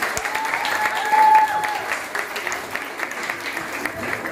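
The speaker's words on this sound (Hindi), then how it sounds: "जोरदार तालियां।" Audience applause at a Women's Day celebration as a guest is welcomed with a garland and shawl, a steady broadband patter of clapping filling the whole stretch, slightly louder early on.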